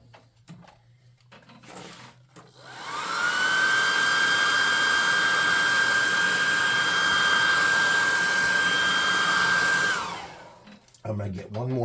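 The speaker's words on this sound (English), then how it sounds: "I'm going to hit him with a +2 hot air gun and burn him." A hot air gun blows on a painted tabletop model of a pseudo-dragon, roaring up after a few seconds of quiet with a steady whining hum, holding loud and even, then cutting off with small handling noises.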